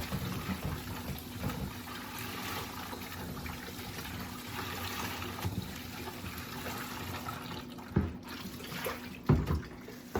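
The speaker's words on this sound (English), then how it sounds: "We're gonna rinse our garments with hot water." Steady running tap water pours and splashes throughout, with occasional louder sloshes and clunks near the end as items are moved under the stream.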